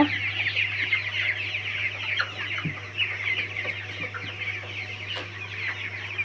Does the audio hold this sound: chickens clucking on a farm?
yes